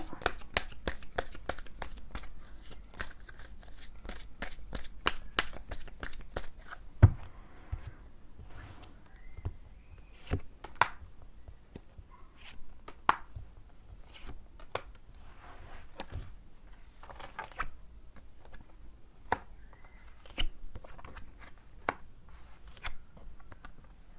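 Tarot cards being shuffled and drawn as extra cards, a long run of soft, rapid flicks and papery slaps at first, then scattered single snaps and rustles at close range.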